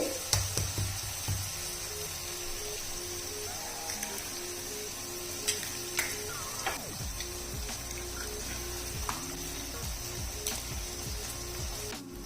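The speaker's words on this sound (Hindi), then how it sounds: "इस पॉइंट पे मैं डाल दूंगी इसके अंदर 3 अंडे" Three eggs go into a pan with crunchy fried potato for aloo anda bhujia, sizzling and crackling steadily under scattered clicks and a few scraping utensil sounds, close and moderately loud with no one speaking.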